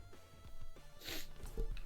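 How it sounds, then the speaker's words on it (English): A single quick, sharp sneeze bursts out at close range amid faint background noise and light breathing. "That was a sneeze."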